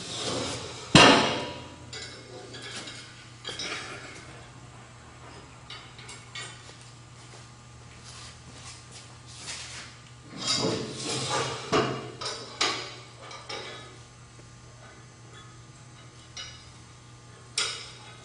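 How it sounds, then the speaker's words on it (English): Steel jack stands are set under the front of a vehicle, with one sharp metallic clank near the start and a few lighter knocks and rattles later, all close by with no talking. "Now you want to set your front jack stands."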